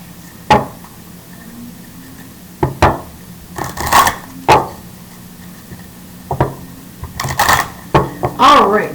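Tarot cards being shuffled in several quick riffling bursts, close up, with sharp taps and pauses between them.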